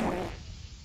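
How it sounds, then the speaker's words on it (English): A cartoon Carnotaurus dinosaur lets out a single short, loud fart that fades quickly. "Why do I keep farting all the time?"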